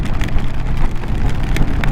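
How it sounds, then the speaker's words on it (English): Rain falls steadily during a solo motorcycle trip through Norway, a dense patter of drops hitting surfaces up close, loud and continuous with no talking. "I hope this isn't the rain magnetism that's finally found me, latched on."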